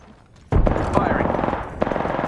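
Rapid automatic gunfire in Apex Legends starts abruptly and continues as a loud, close, sustained burst of rattling shots, with a fresh burst near the end and game voices over it.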